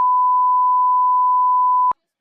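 A steady, loud pure-tone censor bleep holds for nearly two seconds, then cuts off abruptly into silence.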